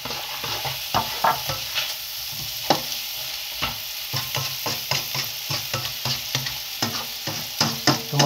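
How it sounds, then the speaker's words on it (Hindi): Kofta fried rice with peas and onions is stir-fried in a pan, heard as a constant sizzle with frequent rhythmic scrapes and clanks of a spatula against the metal, close and busy. "तमाम चीज़ें अच्छी तरह भुन चुकी हैं"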